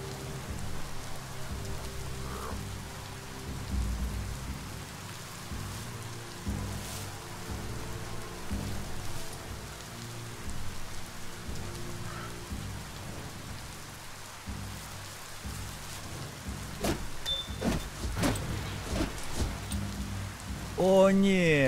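Steady rainfall in the video game Biomutant patters continuously on surfaces, with low music and ambient tones beneath and a few sharp effect sounds near the end.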